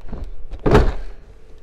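A Ford F150 front door trim panel is lifted up and off its clips: one short, dull plastic knock close by, with faint rustling just before and after.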